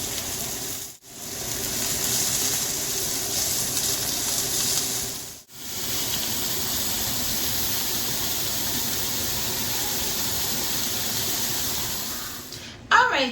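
Pork chops sear in a hot pan for a caramelized crust, a loud steady sizzle and hiss filling the whole stretch with two brief breaks, ending in a short clatter.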